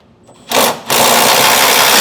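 A 3/4 inch socket drives bolts down tight while a B&W Companion sliding fifth wheel hitch is installed on a 2023 Ford truck. A brief burst leads into a loud, close, steady rapid mechanical whir with no talking.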